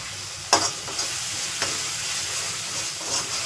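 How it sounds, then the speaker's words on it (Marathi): Green chili and curry leaves dropped into hot oil in a pan of onions cooking for chole, a sudden crackling splash followed by a steady, bright sizzle with faint stirring scrapes, close by and without talk. "त्याच्यामध्ये मी टाकते मिरची, कढीपत्ता"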